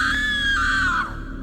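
A woman's high, drawn-out scream of dread in a horror tale, one sustained wailing cry lasting over a second that wavers and fades, loud and close against a low background hum.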